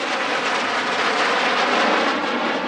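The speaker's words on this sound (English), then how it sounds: "Flying just after the main warbird slot was this pair of TS-11 Iskras from Biało-Czerwone Skrzydła" A pair of TS-11 Iskra jet trainers roars past at the Radom Airshow 2023, a loud, steady broadband jet rush filling the air without pause.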